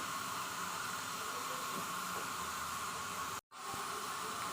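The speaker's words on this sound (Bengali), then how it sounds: "যে আদা রসুনটা আমি পেস্ট করে রেখেছি সেটাকে আমি দিয়ে দিচ্ছি।" Ginger garlic paste hits hot oil with fried onions in a home kitchen pan, a steady loud hiss of sizzling frying that runs throughout, broken by one brief dropout before the hiss resumes.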